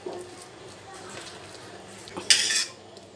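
Mashed potato filling for aloo paratha being mixed in a bowl, soft close scraping and stirring with a sharp clatter of a utensil against the dish near the end.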